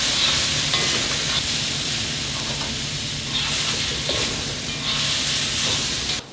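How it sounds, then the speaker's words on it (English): Loud continuous sizzling and hissing of mung bean sprouts stir-frying in a hot pan, with faint scraping stirs, steady throughout and no voices. "I'll literally wait until the last minute of stir frying to add the mung bean sprouts"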